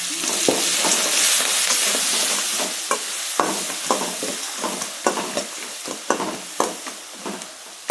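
Green chili and garlic paste frying in hot oil with curry leaves and dried red chilies for raw mango chitranna, a steady sizzle broken by repeated stirring scrapes in an even rhythm, close and fairly loud, with no talking.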